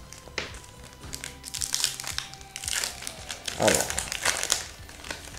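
Yu-Gi-Oh! Legendary Duelists booster pack foil wrappers crinkle and tear open nearby in loud bursts of crackling, while someone speaks French briefly.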